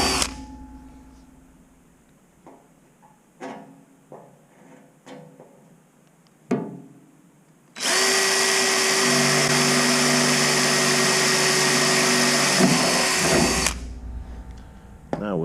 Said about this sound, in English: this is a 1/8 drill here just to make the pallet